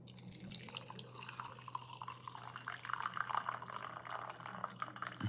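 A drink with rose petals being poured, a faint, steady trickle of liquid with light dripping that grows a little louder toward the end, heard alone with a low background hum.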